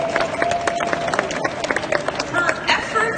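An audience at a Black History Month celebration breaks into applause for an honoree, a dense steady clapping from a crowd throughout, with some voices mixed in.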